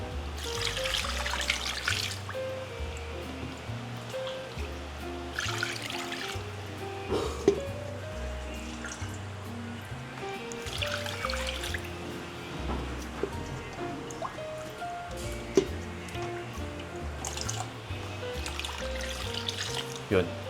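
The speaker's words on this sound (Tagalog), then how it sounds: "bali 3 litro po yung nilagay nating tubig." Water pours into a cooking pot for boiling two kilos of pork belly, a continuous trickling and splashing that runs under talk throughout, with occasional knocks and clinks.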